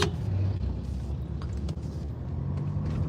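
A car passes on a road, a steady loud rumble holding close for the whole few seconds with no voices over it.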